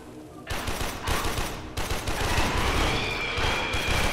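Rapid, dense automatic gunfire in the sci-fi shooter Warframe, loud and continuous in heavy bursts that rattle on for several seconds with only brief dips between them.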